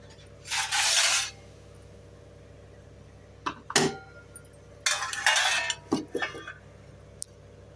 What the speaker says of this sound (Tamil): இப்போ தட்டு போட்டு மூடிடலாம்